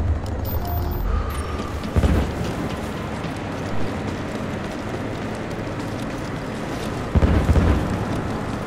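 Grenade blast in the tactical shooter Ghost Recon Future Soldier, a sudden low-heavy boom that punches out of steady wind-like ambient rumble, with another strong burst later amid the continuous background.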